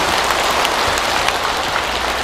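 A hall audience at a Busan temple's 108th founding anniversary ceremony keeps clapping, a dense, even patter of hands lasting a couple of seconds with a few sharper claps standing out.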